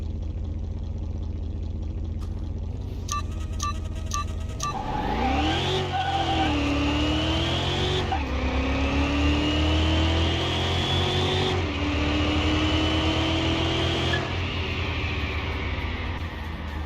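A race car engine in a Car Mechanic Simulator 2021 race against a Pagani Revolution revs hard from idle into rising, sweeping gear pulls, with a tire squeal near the start and a steady roar afterward.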